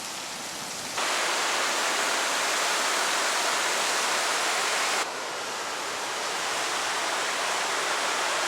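Waterfall on the river in Minneapolis roaring steadily as a dense broadband rush, loud and close, with a brief quieter stretch at the start and a slight level shift partway through; no voices.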